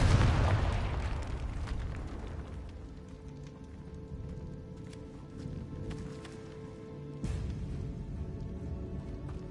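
A Confringo spell from Hogwarts Legacy bursts with a heavy explosive boom at the start, then rumbling debris and lighter pops fade into quieter ambience, with another small impact later on.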